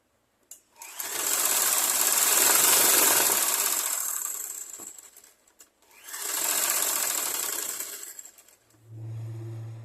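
Electric sewing machine stitching a blouse, running in two loud sustained bursts separated by a brief pause, then stopping as a low hum remains.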